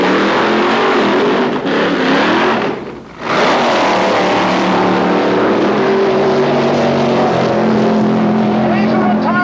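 Vintage drag race car at an NDRA reunion at LA County Raceway in Palmdale, engine roaring loud and steady through a run with a brief dip, while someone talks over it.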